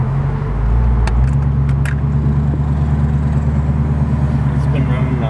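A 1967 Ford Mustang on a test drive, its steady low engine drone and road rumble loud and continuous throughout, with a couple of brief clicks early on.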